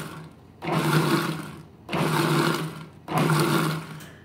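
A blender pulses wet ingredients for a low-carb banana strawberry cake in three loud, evenly spaced bursts of whirring motor noise, each about a second long, separated by short pauses.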